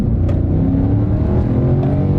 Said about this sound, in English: So we'll just slow down a little and we'll give it the gas.